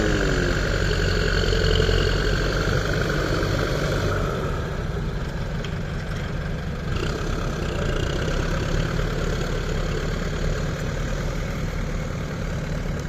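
A Ford tractor's diesel engine pushes soil to free a bogged dump truck, a loud, steady low rumble with a knocking chug that runs without a break for the whole stretch.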